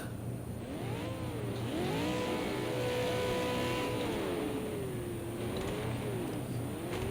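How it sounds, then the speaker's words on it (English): V8 Supercar engines in a racing video game rev loudly and continuously at the Nurburgring, pitch climbing and falling as the cars accelerate and shift, one sustained roar with no talk. "oh, I can hear the engines."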